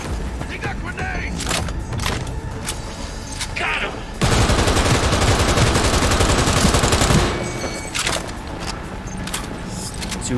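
Sustained heavy automatic gunfire from overheating guns in the Cyberpunk 2077 video game, dense and loud for several seconds amid scattered shots, game effects and talk.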